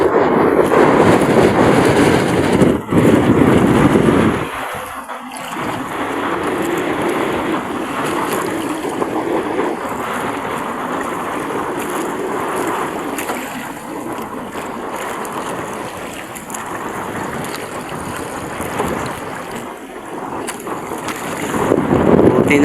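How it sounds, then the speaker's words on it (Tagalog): Strong wind buffets a boat at sea, a loud continuous roar mixed with crashing waves and mic rumble that dips briefly and then surges again, with no voices. "Lakas ang hangin."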